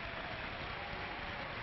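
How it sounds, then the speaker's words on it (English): LSU Tiger fans applauding at a college baseball game against Air Force, a faint, distant, steady spread of clapping heard through a broadcast with a muffled, band-limited tone. "And you hear the applause from the Tiger fans sending out support to end the ballgame."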